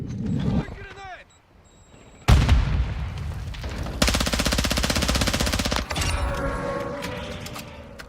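Call of Duty Modern Warfare II gunfire: a sudden heavy blast, then a long sustained burst of rapid automatic fire that cuts off into rumbling aftermath, preceded by brief spoken radio callouts.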